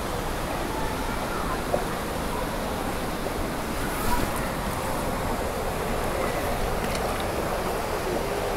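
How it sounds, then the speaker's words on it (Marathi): Water rushing over a naturally formed waterfall in the Sahyadri hills during rain, a broad, steady roar filling the air without pause, with faint brief knocks on top. "पाण्याचा आवाज खूप आहे इथे"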